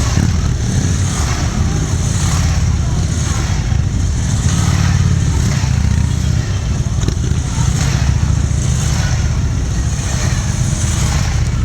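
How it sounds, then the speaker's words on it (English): Loud, continuous engine roar from the Golden Helmets precision motorcycle team riding off together at a display in Hilton Beach, a steady throaty rumble with some revving swells. "The entire 2013 motorcycle team will move off to the end of the ride area."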